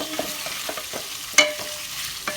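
Beef dropped into hot oil and stirred, faint frying under a series of light spoon scrapes and one sharper clink against the pan, close and quiet with no talking.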